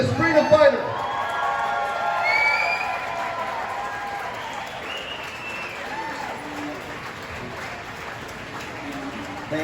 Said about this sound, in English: Let's give a big round of applause for this truth seeker, for this freedom fighter.